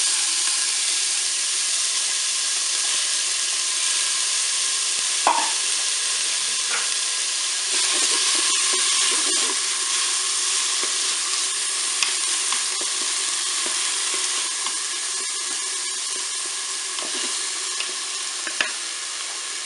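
Onions fry in a preheated Cookeo pot with a loud, steady sizzle and hiss that runs the whole time, broken by a few faint clinks of stirring.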